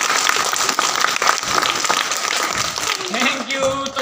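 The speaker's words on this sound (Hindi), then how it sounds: "क्लैपिंग करेंगे ना।" Audience clapping after a stage magic trick where a stick turns into a handkerchief, a steady patter of applause from a group, with a voice talking over the last second.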